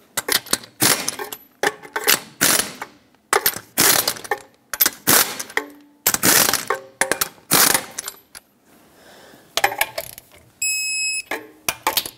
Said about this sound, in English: Put on all 6 of your lug nuts, bottom them out, and torque them to 76 foot-pounds.